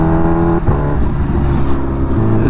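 A Ferrari sports car accelerates past on the street outside an exotic car meet, its loud engine note rising and shifting through gears with a strong harmonic roar, close and dominant throughout.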